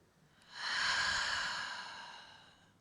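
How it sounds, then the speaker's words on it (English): Breathing exercise: a single long, steady exhale of breathy air rising after a quiet start, holding strong, then slowly fading, close and alone with no talk. "Inhaling and exhaling."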